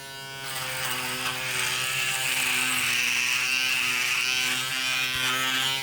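A Panasonic ES-RM3B Arc 3 electric shaver running against a face, giving a steady, close buzzing whine with a faintly shifting texture as the head moves over stubble, heard alone without any voices.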